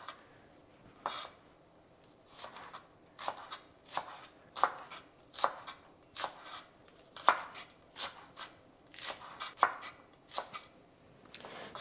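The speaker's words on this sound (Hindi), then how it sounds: "इसको मैं थोड़ा एंगल में काटूंगी।" A knife chops spring onions at an angle on a board, about twenty crisp, evenly spaced cuts in a steady rhythm, close and clear against a quiet room.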